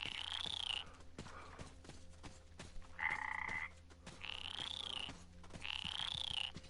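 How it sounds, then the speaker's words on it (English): Frogs croak repeatedly in the video game Metro Exodus, with several loud drawn-out calls at a steady pace over low swampy background ambience and no speech. "I walked over the frog, squished."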